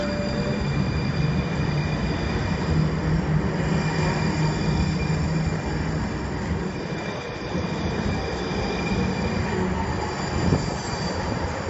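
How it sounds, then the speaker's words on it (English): A departing train in Charlotte rolls steadily nearby with loud, continuous metallic wheel squeal ringing above the rumble throughout. "let's watch the train go."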